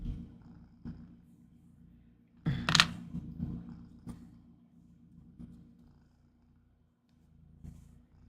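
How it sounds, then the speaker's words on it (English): A low, steady purr rumbles softly close up, broken by a brief rustling bump and a few faint clicks. "Yep, you can hear her purring."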